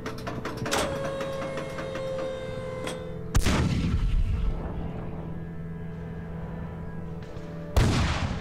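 New Zealand artillery fire covering an Australian withdrawal at Kapyong in the Korean War: two heavy booms with long rolling decay over a steady mechanical rumble and distant shots.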